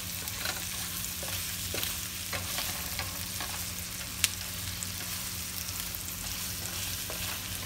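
Meatballs for spaghetti fry in a pan with a constant close sizzle while they are rolled and turned, soft scraping touches and one sharp click over the frying.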